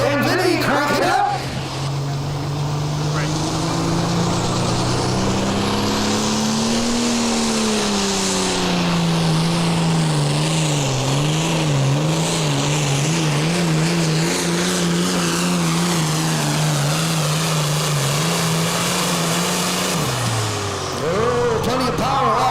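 A tractor engine revs hard at a tractor pull on a river-area course, a loud sustained roar that climbs in pitch and wavers as it labors, then drops off near the end.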